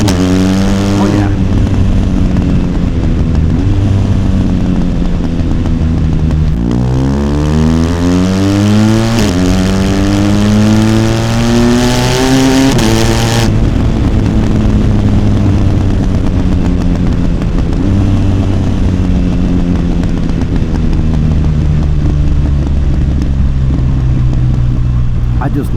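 Motorcycle engine revving hard while riding, loud and continuous, rising and falling in pitch through several gear changes with a steady rush of wind noise, no talking over it.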